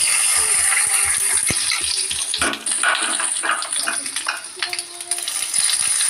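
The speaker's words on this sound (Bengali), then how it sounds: "বেশ কিছুটা আদা দিয়ে দিলাম দিয়ে এটাকে খুব ভালো করে আদাটাকে ভেজে নিলাম" Ginger fries in oil with cumin seeds, bay leaf and dried chilli, making a loud, continuous sizzle up close, with repeated metallic scrapes and clinks as it is stirred in the pan.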